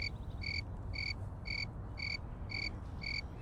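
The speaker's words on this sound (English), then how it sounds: "This is where I put the cricket sound on the video." Cricket chirping sound effect, seven evenly spaced high chirps repeating about twice per second over a steady broadband noise floor, with no talk.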